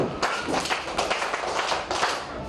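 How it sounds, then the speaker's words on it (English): A small group claps for a girl in a classroom, with quick uneven hand claps in a steady run of about two seconds, fairly close. "Let's clap for her."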